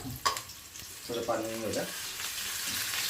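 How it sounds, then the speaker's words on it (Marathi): Onion sizzles as it fries in hot oil in a pan, with a brief scrape of stirring partway through; the sizzle stays steady and fairly close throughout. "आता कांदा टाकत आहोत. आता ते आम्ही मस्त म्हणजे हलवू."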